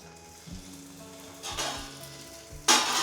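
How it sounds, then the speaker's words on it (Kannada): Karjikai sweet dumplings fry in hot oil, a continuous crackling sizzle that swells in bursts as pieces are moved or stirred, close and fairly loud, with no voices. "ಈಗ ಕರ್ಚಿಕಾಯಿಗಳನ್ನು ಕರ್ಕೊಳ್ತೀರಾ?"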